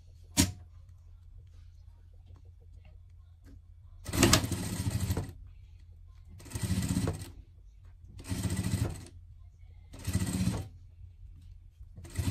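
A sewing machine stitches a Parisian-style pet dress in four short bursts of rapid whirring, each lasting about a second and separated by quiet pauses, close and clear with no talk.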